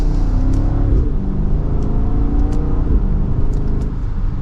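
A 2025 BMW X5 M60i's exhaust rumbles steadily as it accelerates from second gear, a continuous engine drone with gear-like pitch rises, loud and close throughout.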